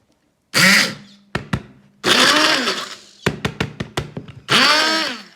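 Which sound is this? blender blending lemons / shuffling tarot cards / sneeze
blender blending lemons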